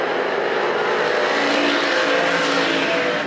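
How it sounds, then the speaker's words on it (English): Street stock race cars roar around Perris Auto Speedway during a main event, a loud continuous engine drone from the pack with no talk over it. "Here comes the 15 of Mahoney trying to take the second spot away."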